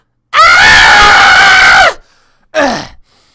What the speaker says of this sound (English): Sorry for my girlish screech.